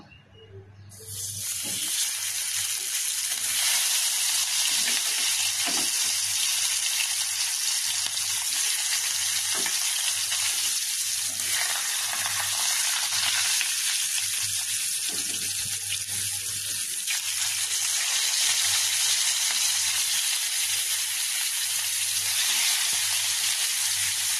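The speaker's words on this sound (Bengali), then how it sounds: "এখন মাছগুলো একটা একটা দিয়ে আমি ফ্রাই করে নেব।" Pieces of rohu fish sizzle in hot mustard oil in a pan, a loud, continuous crackling hiss that starts abruptly and carries on without a break, with no voices over it.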